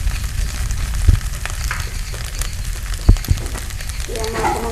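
A soybean and egg dish fries in a pan with a dense crackling sizzle as sauce goes in, with a few soft thumps and clacks of utensils and a brief bubbling surge near the end, close and fairly loud.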